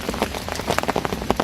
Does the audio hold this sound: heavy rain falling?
yes